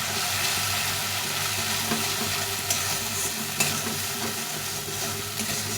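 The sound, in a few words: spice paste with chili powder being sautéed and stirred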